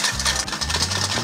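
Olive oil being whisked into a Caesar salad dressing, a rapid rhythmic clatter of the whisk against the bowl, close and continuous throughout with no talk.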